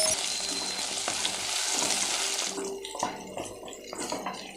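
Onions and curry leaves for kara chutney sauté in a pan, sizzling steadily and close by, with the sizzle easing midway and a few soft scrapes and stirring knocks as they are moved around.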